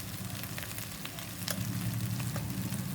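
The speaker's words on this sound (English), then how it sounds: "You will give a stir to it" Masala spices, turmeric, garam masala and coriander powder, sizzle in a pan for Punjabi-style cauliflower and potato as they are stirred, a steady close hiss with scattered crackles and scraping, growing fuller toward the end.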